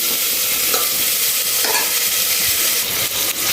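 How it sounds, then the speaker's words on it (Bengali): Food sizzles and crackles steadily in a hot pan, with occasional scraping and stirring sounds and no voices. "আমি একটু নুন হলুদ মাখিয়ে একটু হালকাভাবে ভেজে নেব"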